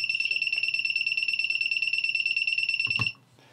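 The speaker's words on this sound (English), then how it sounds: "the buzzer starts to make a noise" A small electronic buzzer fitted to an EMAX Nighthawk 280 Pro racing drone as a lost model alarm sounds a loud, rapid pulsing beep for about three seconds, then cuts off abruptly, leaving a quiet background.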